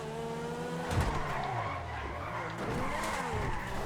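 A Grotti X80 Proto supercar in GTA V screams at high revs, its engine pitch rising and dipping with gear changes while tires squeal, loud and continuous.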